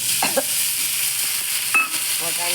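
Asafoetida sautéing in a pan with chopped green chili, a bright steady hiss of hot oil with a couple of brief stirring taps, close and fairly loud, with no talking.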